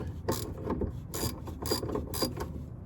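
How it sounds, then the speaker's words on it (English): A hand ratchet works loose the bottom sway bar nut on a Mazda RX7's suspension, giving four or five short bursts of rapid metallic clicking close up, with brief pauses between strokes and no talk. "Getting the bottom nut for the sway bar off."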